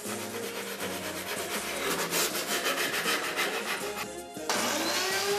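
Steady rasping scrape of sandpaper worked by hand back and forth over a carved wooden sign, close and continuous, with a brief pause before it resumes slightly louder.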